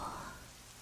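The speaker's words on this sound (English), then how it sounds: "The rain gets heavier now. It taps against the roof, steady, patient" Steady rain pattering on a roof during a rainy day, a soft continuous wash of drops that stays even and fairly quiet throughout, with no voices.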